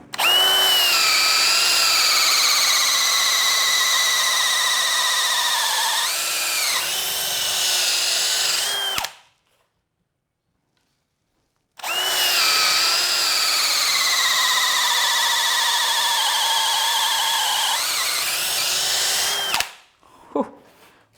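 A DeWALT DCD999N cordless brushless hammer drill runs in second gear, drilling in two long bursts of high whining motor tone that dips under load, separated by silence, with a brief clatter at the end.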